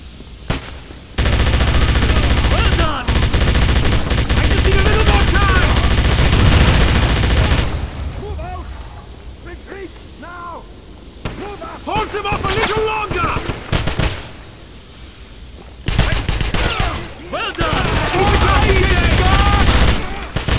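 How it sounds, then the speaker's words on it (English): An MG-42 machine gun in the video game Wolfenstein fires in long, loud, rapid bursts. After a pause, shorter bursts return, with shouting voices heard between the volleys. "BJ, we need you defending us with the MG-42!"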